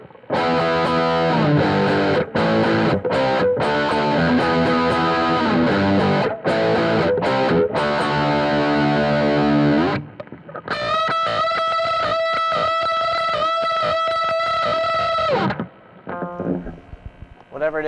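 High-gain distorted electric guitar through a modeled amp on a Positive Grid Spark, loud chugging riff with palm-muted stops, then sustained saturated chords before fading out.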